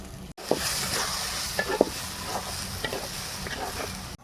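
Onion paste frying in a clay kadai hisses quietly while tomato paste is stirred in, with scattered scraping clicks from the spoon over the steady sizzle, close and without talk.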